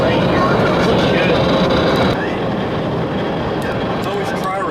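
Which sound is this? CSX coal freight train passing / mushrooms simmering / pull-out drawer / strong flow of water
CSX coal freight train passing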